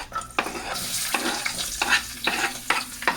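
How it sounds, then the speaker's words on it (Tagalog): Garlic and onion sautéing in a pan as the first step of Batangas lomi, a bright close sizzle broken by several rhythmic stirring strokes and scrapes. "Una natin gagawin ay magigisa tayo ng bawang at sibuyas."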